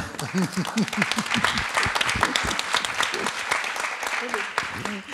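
Audience applause at a tribute gathering for an architect, a dense sustained clatter of many hands lasting throughout, with a voice speaking over it near the start and again toward the end.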